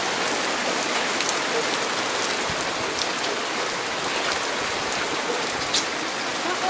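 Steady rain falling in a village in Cisayong, Tasikmalaya, a dense continuous patter of drops on surfaces, close and even, with occasional louder drips and no voices.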